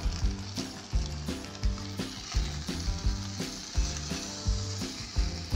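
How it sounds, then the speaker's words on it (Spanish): Beef steaks with broth sizzle in a frying pan, a steady crackling hiss that sits under rhythmic background music. "Agregamos nuestros bisteces y también nuestro caldillo ya quedó"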